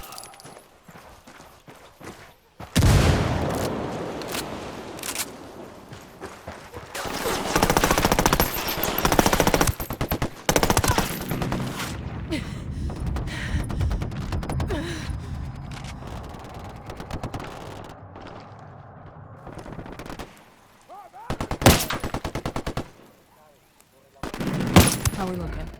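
Automatic gunfire from a shooting video game comes in loud, sustained bursts with pauses, gaps and separate later volleys, alongside game sounds and occasional voices.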